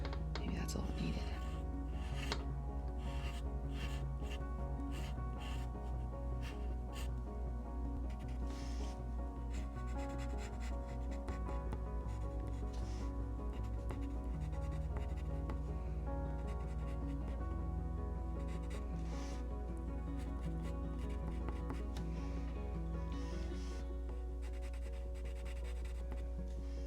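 A pencil draws on paper while a comic panel is penciled by hand, giving soft, continuous scratching and rubbing strokes under a steady background hum.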